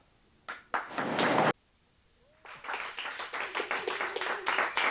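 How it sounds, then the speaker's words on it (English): Studio audience applause and cheering on a TV show stage: a short burst of loud clapping, a pause, then sustained rhythmic clapping and whooping from a crowd close by. "And the crowd roared."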